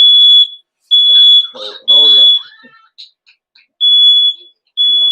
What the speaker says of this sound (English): then I got a smoke alarm going on